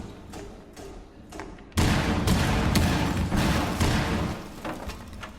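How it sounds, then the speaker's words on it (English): Fuze's cluster charge in Rainbow Six Siege fires with a few soft thumps, then a dense, loud burst of repeated explosions erupts and rumbles on for several seconds, up close with no talking. "The third cluster charge that is fired from there will fly straight into this room and land on the bomb"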